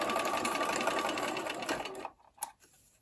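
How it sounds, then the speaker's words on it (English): A sewing machine stitches down a seam line while piecing a faux double sawtooth star quilt block, a steady close whirring run that stops abruptly, followed by a few faint handling clicks. "stitch down that line"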